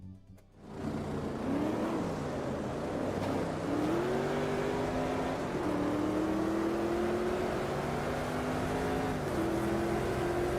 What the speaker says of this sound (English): I want to hear the engine.